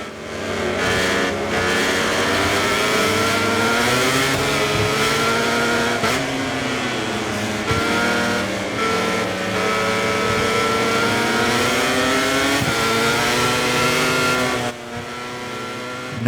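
MotoGP 24 race bikes scream around the Sachenring circuit, a continuous loud engine whine rising and dropping with each gear change and corner, with brief braking dips.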